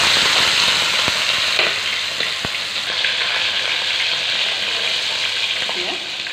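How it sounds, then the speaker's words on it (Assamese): Fish pieces fry in hot oil in a home kitchen, a loud continuous close sizzle with a few sharp pops and stirring scrapes, easing slightly after the first seconds. "এতিয়া মই মাছখিনি অলপ ভাজি ল'ম।"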